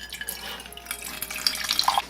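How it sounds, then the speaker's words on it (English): Drinking water pours from a measuring cup into store-bought pancake mix, a light trickling and splashing with small drips, close by and quiet, with no voices. "I'm going to add 1/3 cup of water."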